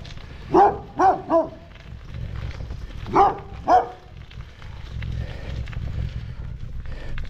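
A dog barks in two bursts, three sharp barks then two more, nearby over a low engine rumble, then quiet idling noise follows.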